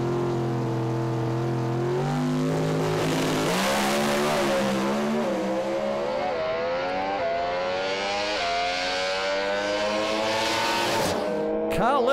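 A Pro Stock drag racing car launches on a solo pass, its engine screaming loud and near, then rising in pitch through the gears as it pulls away down the strip.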